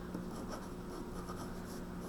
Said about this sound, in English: So let me write that out.